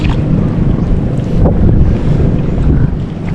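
Strong wind roars steadily across the microphone at dawn while fishing, a dense low rumble with gusts swelling and easing, with waves or water faintly beneath.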